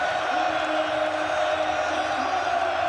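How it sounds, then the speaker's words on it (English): Crowd cheering at a Manchester City Premier League title celebration, a broad sustained roar of a large stadium audience, steady and loud throughout with a faint tonal murmur inside it. "The biggest cheer on the podium for the Norwegian"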